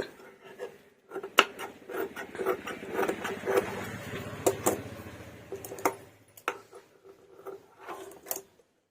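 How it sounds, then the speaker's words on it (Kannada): Scissors cutting away excess blouse fabric, a run of close, crisp snips and rustles in irregular bursts with short pauses between, fairly quiet and without talk. "ಎಕ್ಸ್ಟ್ರಾ ಇರೋ ಪೀಸ್ನ ಕಟ್ ಮಾಡಿ ತೆಗೆಯೋಣ"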